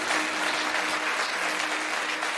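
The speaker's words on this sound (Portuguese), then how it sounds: "Você pode dar ao Senhor mais um forte aplauso." Loud, steady applause from a church congregation at an online Sunday service in Parauapebas, a dense unbroken clatter of many hands filling the whole moment without a pause.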